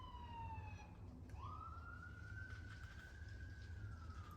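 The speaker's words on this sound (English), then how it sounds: "pardon the siren." A distant siren wails over steady low traffic rumble, its pitch sweeping and then holding a long rising tone.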